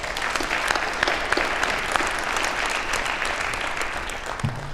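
An audience at a mayoral inauguration breaks into sustained applause, a dense and steady patter of many hands clapping at close range with a few louder claps standing out.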